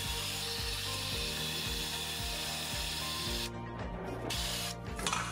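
A cheap tool attachment scrubs built-up, stuck-on grass from a lawn mower deck, giving a continuous loud harsh whirring and scraping with a rhythmic low thump about once a second, briefly dropping out near the end; no one speaks.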